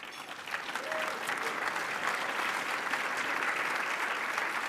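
A Toronto club luncheon audience bursts into applause to welcome former Ontario cabinet minister Eric Hoskins, swelling quickly into a full, sustained round of clapping that continues evenly to the end.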